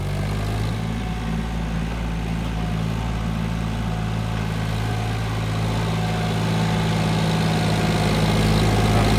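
A John Deere tractor engine runs loud and close with a steady, unbroken low drone and no clear change in pitch.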